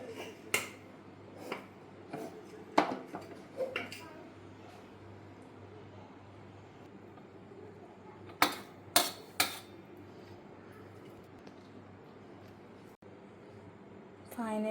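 A pot of biryani is shaken, then scooped onto a plate, making scattered metallic clinks and scrapes of a spoon against cookware. The hits come in two clusters and sit over quiet room tone.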